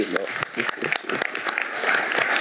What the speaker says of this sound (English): You deserve an applause already for that.